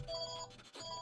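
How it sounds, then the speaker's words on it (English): A phone rings with an electronic tone in two short bursts separated by a brief gap. The ringing is faint and steady, with no voices. "Oh, phone call."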